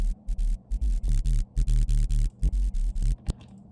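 Heavily distorted riddim dubstep synth bass, overdrive distortion with drive near maximum, pulses in short choppy bursts, a gritty buzzing growl repeating in a fast stuttering rhythm.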